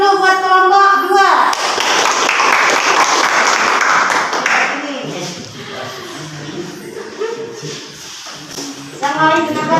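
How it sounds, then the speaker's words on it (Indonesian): A classroom bursts into applause for group 2, with dense clapping from many hands that swells and then tapers off, and children's voices are heard talking before and after. "Kasih aplaus dulu, kasih semangat dulu buat kelompok 2"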